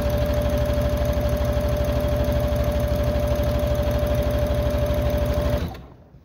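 A sewing machine runs steadily, stitching straight down the top edge of a Christmas stocking, a loud continuous motor hum with a rapid needle rhythm that stops abruptly near the end.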